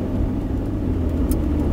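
A 2016 Ford Ranger with a 3.2 litre diesel drives along an outback gravel track, giving a steady low road rumble and engine drone with constant tyre noise, close and unbroken, with no voices.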